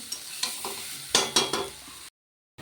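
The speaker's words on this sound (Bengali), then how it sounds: "এবার কষাবো মশলার সাথে মটনের কিমাটাকে কষিয়ে নেব" Minced mutton with ground spices, ginger and garlic paste is sautéed in a pan with a spatula, giving close scraping strokes over a soft sizzle before a sudden brief silence.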